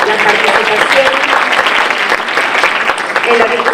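An audience at a forum on women's rights applauds the candidates with dense, steady clapping that stays loud throughout, with no voices standing out.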